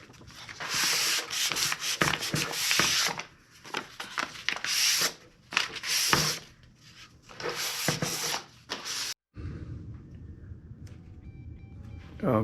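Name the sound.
hand sanding wooden tray with 400 grit sandpaper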